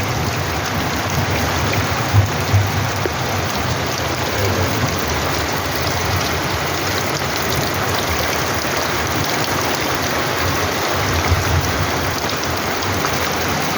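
Heavy rain pours steadily at night in a dense, continuous hiss, loud and unbroken throughout with no voices.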